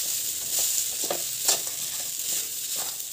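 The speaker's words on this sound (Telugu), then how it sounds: "ఇప్పుడు తడిపి పెట్టుకున్న అటుకులు వేసుకుందాం. ఇవి ఫ్రై కావాలి." Soaked flattened rice (atukulu) fries in a home kitchen pan while a spatula stirs it, giving a steady soft sizzle broken by light scraping strokes, close and fairly quiet with no talk.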